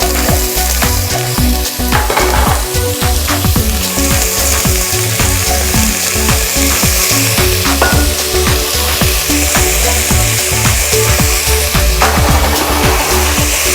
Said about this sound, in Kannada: ತರಕಾರಿಗಳೆಲ್ಲ ಹಾಕಿ ಒಂದು ರೌಂಡ್ ಬಾಡಿಸಿ